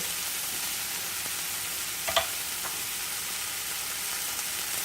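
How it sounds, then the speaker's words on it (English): Garlic sizzles in a pan for a Greek omelet, a steady close frying hiss with a couple of brief clinks from stirring partway through. "I'm going to let this cook, and now I'm going to add the garlic too"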